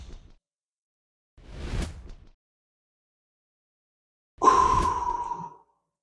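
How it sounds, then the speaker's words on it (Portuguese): A person doing a 2-4-4 breathing exercise takes a brief breath in, holds in silence, then lets out a longer, louder sighing exhale. No words are spoken. "Eu conto até 2 para inspirar, conto até 4 segurando a respiração e conto até 4 soltando a respiração."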